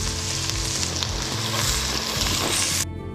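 Herbs and garlic sizzle loudly in hot oil in a pan for crab curry, a steady dense frying hiss with stirring, close and continuous before cutting off near the end.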